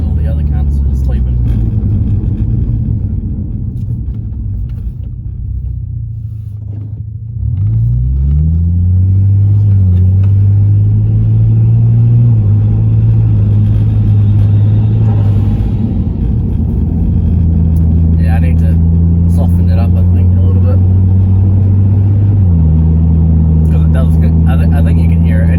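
A car driving with a newly fitted blow-off valve, its engine droning and rising through the gears with a pause in revs, heard from inside the cabin with a loud, steady rumble.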